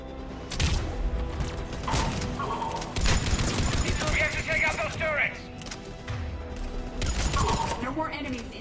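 Turret gunfire in the video game Mass Effect 3 on Sur'Kesh, loud, continuous mechanical rattling shots with clanks and whirs, with game voices heard over it.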